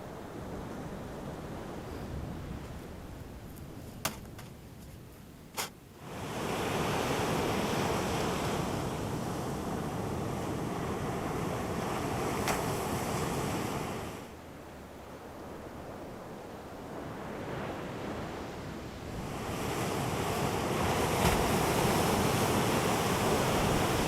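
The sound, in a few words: ocean waves on the shore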